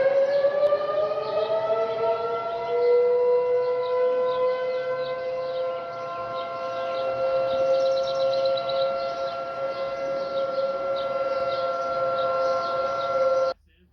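Peru's emergency alert system alarm siren sounds as a steady, loud electronic wail with layered tones, holding a near-constant pitch for about thirteen seconds before cutting off abruptly.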